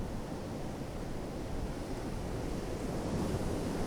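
Storm waves crash steadily onto coastal rocks while strong wind buffets the microphone, a continuous loud roar of surf and gusts with no talking.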